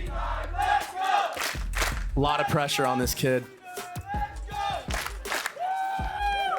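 Esports arena crowd at a Valorant VCT Americas match between C9 and MIBR roars and chants in a sustained wash, with a commentator speaking over the top.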